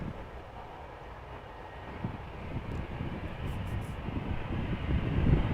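A Bulgaria Air Airbus A320 airliner at Amsterdam Schiphol gives off a broad engine rumble that builds gradually in loudness, from distant to nearer, with no talk.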